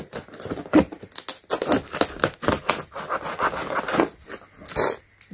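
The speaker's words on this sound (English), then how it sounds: "let's go ahead and unbox this" Unboxing a Pittsburgh Pro click-type torque wrench and socket set, with close bursts of cardboard tearing, crinkling packaging and rustling in an irregular rhythm.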